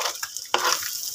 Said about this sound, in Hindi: और मैं अभी इसको ऐसा ये फ्राई करूँगी।